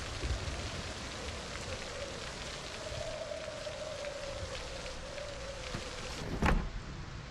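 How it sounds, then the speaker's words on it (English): Rain falling in the video game Project Zomboid Build 42, a soft, even hiss of drops that continues throughout, with a brief thump near the end. "Can you hear the rain?"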